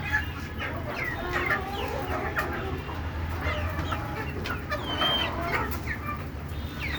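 Desi chickens kept on a rooftop farm clucking continuously, with many overlapping calls and squawks at close range over steady background noise.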